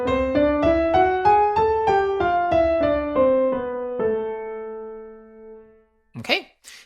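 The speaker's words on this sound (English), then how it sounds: "When you go up, you're raising the 6th and 7th up a semitone" A piano runs a melodic minor scale up and back down in steady single notes. The last note rings out and fades, followed by a brief burst of voice at the end.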